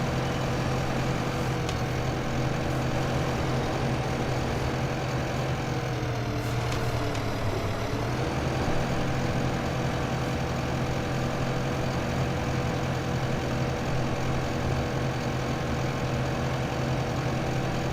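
Steady, unbroken engine drone from a tractor in Farming Simulator 15, a low hum holding at an even level throughout with no talking.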